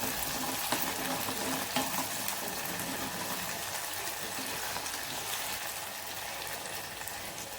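Shallots, black pepper and cumin frying in oil for vathal kuzhambu, a dense continuous sizzle and bubbling hiss, loud and close, with no voices over it.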